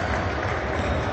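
Crowd applauding at the Palamangano during a basketball game, a brief dense burst of clapping over arena noise.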